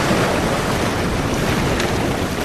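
Open sea around a small fishing boat: constant roaring wash of waves mixed with heavy wind buffeting the microphone, loud and unbroken, with no talk.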